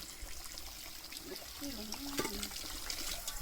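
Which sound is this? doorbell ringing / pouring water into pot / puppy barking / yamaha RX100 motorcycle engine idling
pouring water into pot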